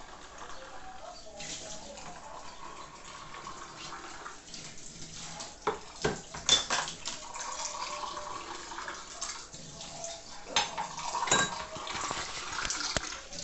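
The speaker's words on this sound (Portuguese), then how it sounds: "Vai virando a água lá dentro da pia, né, Teio?" Tap water runs and splashes into a kitchen sink while dishes are rinsed and soapy water is poured out of a basin, with irregular clatters and splashes throughout.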